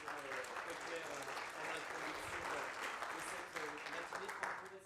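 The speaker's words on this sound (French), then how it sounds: "Merci Franck, on peut l'applaudir pour cette présentation très claire" An audience applauds after a presentation at a French conference on agricultural sectors, a steady, moderately faint wash of clapping lasting several seconds.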